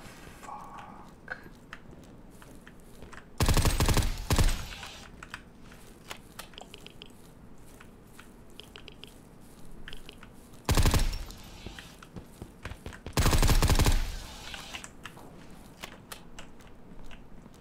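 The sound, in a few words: gunfire from a gun in the video game Zero Sievert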